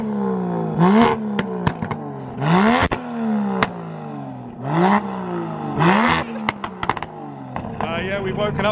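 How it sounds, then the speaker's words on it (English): Remapped Alfa Romeo Giulia Quadrifoglio exhaust revved hard in repeated blips, each a rising roar followed by loud pops and crackles on the overrun, close and loud. "just have a listen to the exhaust"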